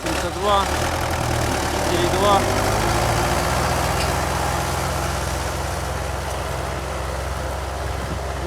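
An MTZ-82 tractor engine runs with a KPS-4.2 cultivator in a village field. It gives a steady, loud, low idling rumble that carries through the whole stretch, with a brief rise in the opening seconds.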